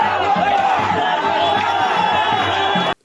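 A large crowd shouts and chants in a Muharram procession, a loud, dense mass of voices with rhythmic cries, steady for about three seconds before cutting off abruptly.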